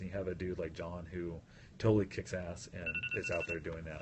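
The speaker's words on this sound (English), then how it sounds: "So that's my phone alarm going off." A phone alarm rings in a steady repeating electronic tone, faint and partly buried under someone talking continuously close by.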